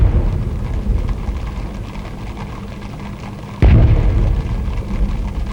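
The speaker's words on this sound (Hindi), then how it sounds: "21 तोपों की सलामी दागी जा रही है।" Cannon fire for a 21-gun salute at India's Republic Day Parade in 1987: a constant rumbling outdoor wash, then one sudden loud boom partway through, with the rumble carrying on afterward.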